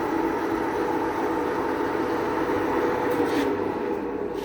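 A Takang 17x80 lathe running in reverse gives a steady, close, broadband mechanical whir and rumble that stays even across the few seconds, with no voices over it.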